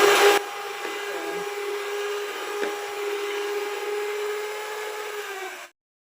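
An electric mixer beats roll cake batter with a steady, even whir that runs for several seconds and then cuts off abruptly.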